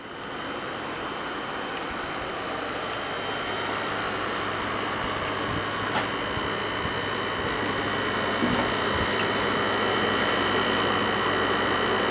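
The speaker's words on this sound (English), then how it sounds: "So there's my air conditioner." An outdoor air conditioning unit runs on a warm night, giving a steady, loud broadband hum and whir that holds constant throughout, with faint ticks.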